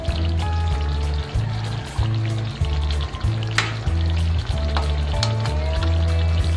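Vegetables frying in added cooking oil for a Filipino paksiw sa gata dish, a close, loud, continuous sizzle and crackle with a steady pulsing hum underneath and scattered sharp pops.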